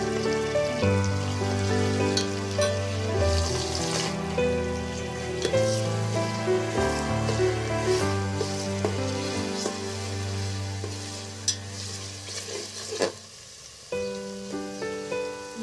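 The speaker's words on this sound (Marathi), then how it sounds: "तेल गरम झाल्यानंतर आलं लसूण पेस्ट, थोडासा कढीपत्ता व खोबऱ्याचं वाटण घालून परतून घेऊया।" Ginger garlic paste, curry leaves and coconut paste frying in hot oil, a loud continuous close crackle and sizzle with occasional stirring scrapes, no talking.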